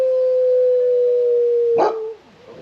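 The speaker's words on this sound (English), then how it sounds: "that's the singing dog that you hear" A singing dog at Shy Wolf Sanctuary in Naples, Florida gives one close, sustained, steady-pitched howling note lasting nearly two seconds. It breaks off in a brief rough yelp, then fades to quiet.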